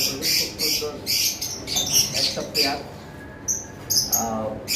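Pet lovebirds in a bird shop giving sharp repeated chirps and squawks in short bursts nearby, mixed with someone talking over them.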